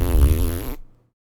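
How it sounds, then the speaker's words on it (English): A pet cat lets out one long, low, rumbling fart lasting under a second, close and loud, then it cuts off to silence. "she just ripped the longest fart I've ever heard a cat fart"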